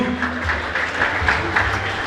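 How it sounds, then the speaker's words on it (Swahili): An audience claps at a secondary school graduation ceremony as a student is honoured, giving a steady patter of applause that is moderately loud and carries on for the whole moment. "weka makofi kwa ajili ya Masai wetu"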